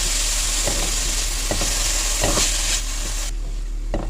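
Grated carrots frying in a pan, a loud, bright sizzle with rhythmic scraping strokes of a spoon about once per second, the hiss dropping away near the end.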